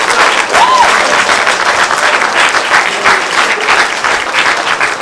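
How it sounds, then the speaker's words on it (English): Guests at a wedding reception break into loud, sustained applause, many hands clapping close by in a dense, even wash, with a faint whoop or cheer near the start. "so we get a round of applause for them, please."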